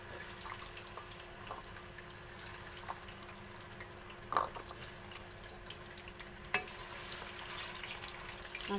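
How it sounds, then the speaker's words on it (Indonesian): Potato pieces frying in hot oil in a pan produce a steady, soft sizzle with a couple of faint clicks and stirring sounds, no voices. "Sekarang kita kasih goreng kentangnya ya."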